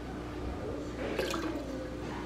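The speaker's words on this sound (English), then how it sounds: "Then I pour in one bottle top of apple cider vinegar." A capful of apple cider vinegar is poured from a bottle into a cup with squeezed lemon, giving a faint, brief trickle midway through an otherwise quiet stretch.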